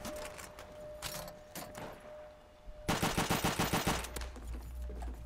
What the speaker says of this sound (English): Sorry, machine gun.